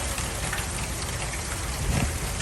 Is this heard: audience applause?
no